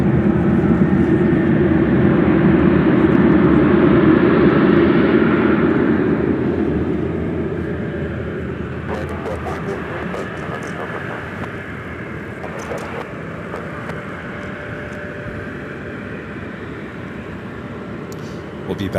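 An American Airlines Boeing 737-800 arriving from Dallas Fort Worth lands at Washington Reagan National, a loud, broad engine roar that swells and then fades into a softer, distant rumble, with talk over it.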